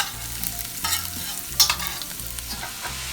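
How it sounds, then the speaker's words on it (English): Garlic sautéing in avocado oil over medium-high heat, a close, steady sizzle with a low hum and a few scraping stirs and clinks. "we're going to saute our garlic"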